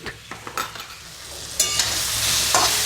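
Pumpkin and ground spices (coriander, fennel, ginger, turmeric) stirred in a frying pan, with a steady sizzle, a few scraping spoon strokes and a louder hiss late on, close and alone.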